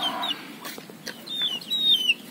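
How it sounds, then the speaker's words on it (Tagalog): A rooster clucks in short, chirpy bursts, with a few higher calls rising over a steady background hum. "Tandang na yun."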